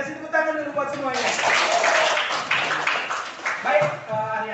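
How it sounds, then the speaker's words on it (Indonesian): Students in a junior high school classroom in Indonesia clap together in a burst of applause for a few seconds, mixed with children's voices and a teacher talking before and after. "kasih tepuk tangan dulu buat semuanya"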